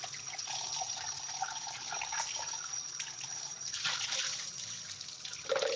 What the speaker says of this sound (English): Eric's doing some tank maintenance, so you hear the water in the background.